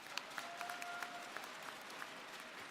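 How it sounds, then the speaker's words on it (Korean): A large crowd at a Korean party presidential nomination convention claps continuously and fairly evenly, heard at a moderate distance, with a faint sustained tone underneath. "다음에는 꼭 출마하시라고 우리 박수로 한번 격려해 주십시오."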